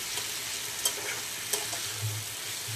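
Meat being sautéed for kosha in a pot for a Bengali dish, a steady close sizzle punctuated by a couple of distinct spatula scrapes and stirs, with no voices.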